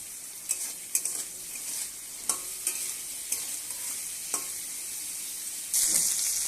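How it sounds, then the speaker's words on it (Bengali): Steady soft sizzling of vegetable stalks frying in a pan with salt and turmeric, with occasional scraping clicks of stirring; the hiss swells louder near the end. "এখানে ডাঁটাগুলো ভাজা হয়ে গেছে"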